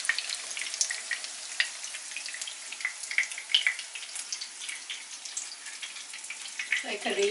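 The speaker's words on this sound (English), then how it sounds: "you can hear kind of like cooking, like deep frying kind of sound in the pan there" Steady crackling and popping of breaded chicken cutlet deep frying in hot oil in a pan, dense and continuous, close by, with a brief lower clatter near the end.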